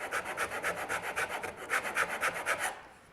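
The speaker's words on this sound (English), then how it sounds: "I like to use the Shinto rasp." A coarse Shinto rasp shaves a wooden tenon down to fit its mortise, giving a steady run of about fifteen rhythmic rasping strokes, close and fairly loud, fading out at the end.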